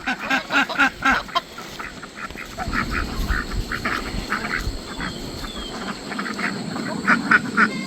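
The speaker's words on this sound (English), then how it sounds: "Get your ducks together." Farm ducks quack repeatedly around a pond, several birds calling in bursts close by, with a low rumble of outdoor activity underneath.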